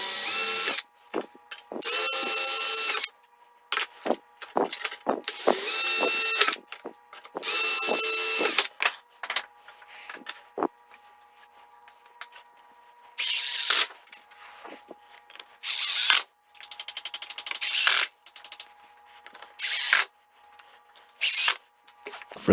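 A power drill drives screws into a new radial arm saw table top in a workshop, with repeated loud whirring bursts of a few seconds each separated by short pauses.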